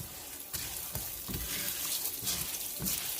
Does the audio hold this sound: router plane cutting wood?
no